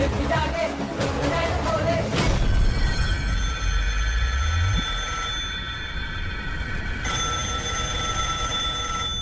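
A telephone rings in bursts against a busy background of murmuring voices and noise, the ringing steady and fairly clear.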